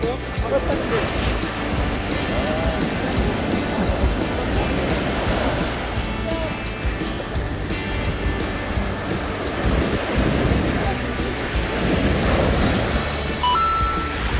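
Ocean waves break on a beach where people throw cast nets at fish beneath the surf, a loud continuous wash of surf with wind buffeting the microphone and voices talking over it.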